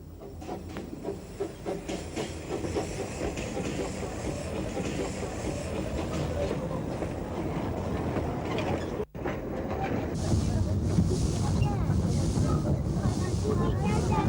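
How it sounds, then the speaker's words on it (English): A 15-inch gauge locomotive on the Ravenglass & Eskdale Railway, a narrow-gauge line, makes steady mechanical rumbling and clanking throughout, with a brief drop-out followed by louder, brighter hiss and running noise toward the end. "The locomotive is now turned before it can head back to Ravenglass."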